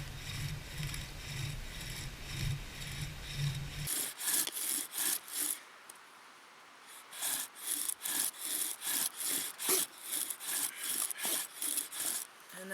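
A bow drill spindle turns in a wooden fireboard, rubbing out a rapid back-and-forth rhythm of scraping strokes, a low rumble early on, then sharper close friction squeaks with a brief pause.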